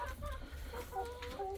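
Chickens clucking softly on a family farm at feeding time, faint, low clucks scattered over steady background noise with no talking.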